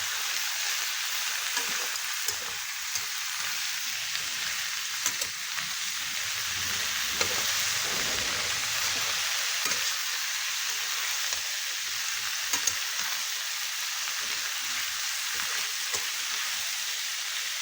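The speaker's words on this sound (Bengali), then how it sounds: "কাঁঠাল, মটর, আলু একসঙ্গে খুব ভালো করে ভেজে নেব।" Jackfruit, peas and potato fry together in a pan with turmeric until browned, a soft, even sizzle that runs the whole time with faint scattered ticks and no voices.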